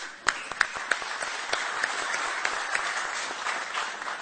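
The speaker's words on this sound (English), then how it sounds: "So we should applaud this gentleman here" An audience applauds an investor at an Ethiopian investment talk, opening with a few sharp distinct claps that swell into steady moderate clapping, with a voice faintly underneath.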